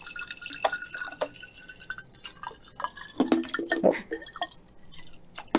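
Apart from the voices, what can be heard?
tap water poured into a glass bottle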